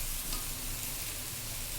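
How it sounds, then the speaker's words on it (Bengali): Boiled vegetables and pasta in a little oil give off a steady, dense sizzle with faint stirring, close and continuous with no voices. "সব সবজি সিদ্ধ করে হালকা তেলে ভাজা হালকা আর সব পাস্তা এখন সব ছেড়ে দেওয়া হলো"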